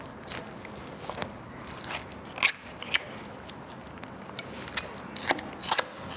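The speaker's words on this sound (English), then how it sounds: "And you'll hear that noise scraping up against the bone" A butcher's knife scrapes and crunches against the bone of a lamb leg while the bone is tunnel-boned out. The sound comes close up as irregular gritty scrapes and sharp crackling snaps at uneven intervals, and no one speaks.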